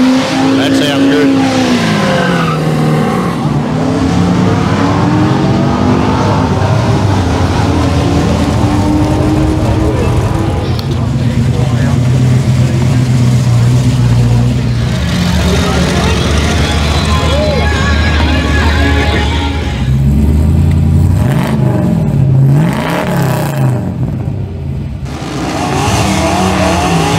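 Ford car revving past at an all-Ford day at Willowbank raceway: a loud engine roars and swells as it passes close by, with rising and falling revs and tire noise, while people talk nearby.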